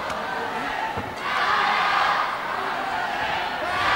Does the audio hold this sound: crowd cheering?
yes